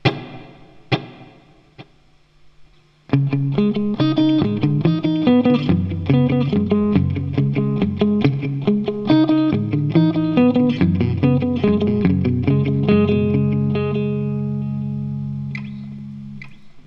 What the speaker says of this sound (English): the delay sound I have dialed in right now looks like this